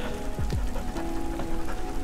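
Rain falls on the Elbe riverbank as a steady, dense patter that holds throughout, with a couple of low sweeping tones early on.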